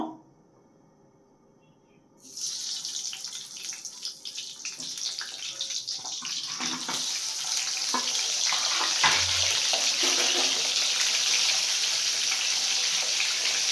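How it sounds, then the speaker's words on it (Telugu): Cheese nuggets drop into hot oil for deep-frying: after a quiet start, a sudden loud, bright sizzle erupts and holds steady, hissing and crackling throughout. "ఇప్పుడు ఆయిల్ వేడెక్కాక వేపుకుందాము."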